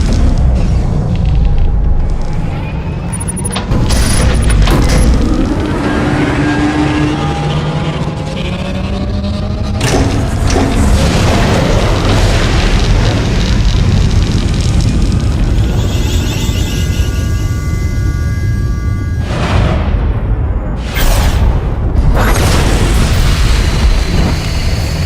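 A capital ship firing the Silencer superweapon in Star Wars: The Old Republic, as deep booming blasts and explosions with a whining energy tone, repeating across the scene and hitting hardest near the end.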